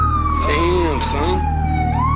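A siren wails steadily over a heavy engine drone, close and loud, with a voice briefly audible underneath.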